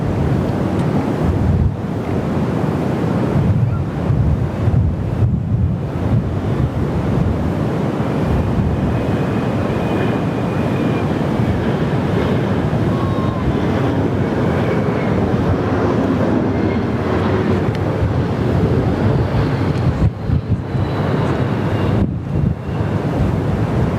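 Fokker airliner in Alliance livery at Perth Airport, a long steady roar buffeted by heavy wind noise across the microphone, loud and continuous throughout with no talking.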